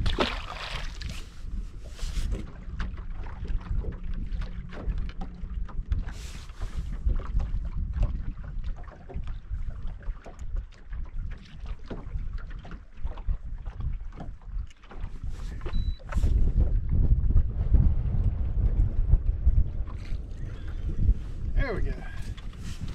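Strong, gusty wind blows across Lake Talquin on a cold frontal day while a fishing boat sits on the water. Rumbling buffets hit the microphone throughout and grow heavier near the end, with someone talking over them.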